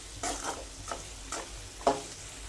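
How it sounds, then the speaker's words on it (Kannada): Vegetables stir-fried with pepper powder for veg fried rice sizzle steadily in a hot pan. Several rhythmic scrapes and tosses of a spatula cut through the close, crackling fry. "ಚೆನ್ನಾಗಿ ಫ್ರೈ ಆಗಿದೆ ಇವೆಲ್ಲ."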